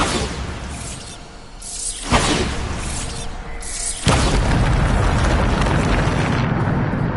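Loud Bombarda explosion spells from a Harry Potter video game, two sharp blasts with shattering crashes a couple of seconds apart, each followed by a dense, roaring rumble of debris.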